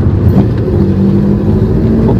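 A 1974 Alfa Romeo GT Junior engine revs under way, a loud, close, rumbling drone that rises and falls slightly, with wind buffeting the microphone and no talking.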